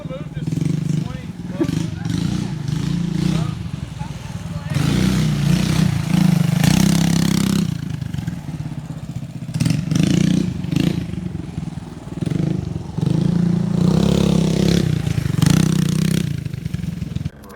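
A minibike with Repsol Honda factory graphics revs and bogs repeatedly while being ridden, its buzzing mid-pitched engine loud and close in surging waves, with voices talking over it.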